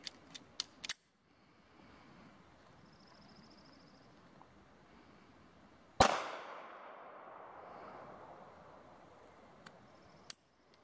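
A KAHR CT380 pistol firing PMC 90 grain ammunition gives one loud sharp shot with a ringing decay outdoors, preceded by a few quick clicks and followed by a faint click, no talking.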